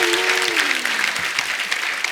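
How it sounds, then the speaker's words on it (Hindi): An audience applauds loudly and steadily in the studio of a Hindi TV comedy show, a dense burst of clapping with a brief voice sliding down beneath it. "जोरदार ताली हो जाए।"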